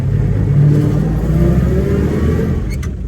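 A 1931 Chevy coupe's inline 194 cubic inch six-cylinder engine idles steadily up close, a low, even rumble throughout with a couple of faint clicks near the end.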